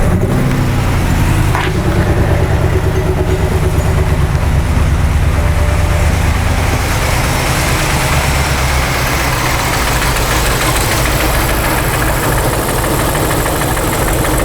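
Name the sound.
2006 BMW 550i engine starting and running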